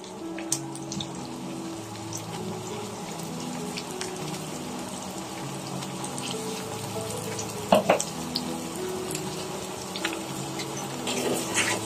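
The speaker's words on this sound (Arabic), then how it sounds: "هنزل بالكفته عليه. هشوحها بس عليه كده تشوح" Kofta sautéing over softened onions in a pan gives a steady, gentle sizzle and crackle, with a few sharper clinks of a utensil stirring against the pan partway through.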